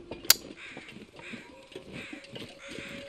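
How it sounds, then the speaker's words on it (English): Crows caw in the winter wilderness of the video game The Long Dark, a sharp nearby call standing out once before softer, distant calls over a low ambient bed. "I hear birds"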